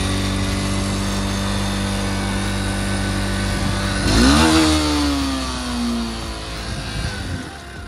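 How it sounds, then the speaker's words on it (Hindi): A motorcycle engine, dropped from a height in snowy terrain and now with a sticking throttle, runs loud and close, surges with a revving rise, then holds a high droning idle. "अब इसकी रेस अटक रही है, मैं आपको दिखाता हूँ स्टार्ट करके"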